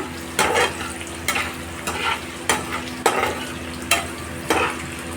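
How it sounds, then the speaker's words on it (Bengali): Onion and capsicum fry in a pan over lowered gas for chilli chicken, with a steady sizzle broken by about seven sharp, regular scraping stir strokes, close and fairly loud. "এবার এই পেঁয়াজ আর ক্যাপসিকামটা ভালোভাবে ভেজে নিচ্ছি আমি"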